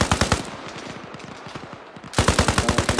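Rapid machine-gun bursts in a firefight in the video game Arma Reforger, loud and close at first, then a softer stretch of scattered fire before another loud close burst, with no speech.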